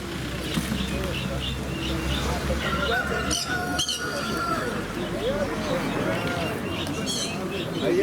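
Pigeons coo softly amid a busy, noisy fair background in Voznesensk, with people talking nearby throughout.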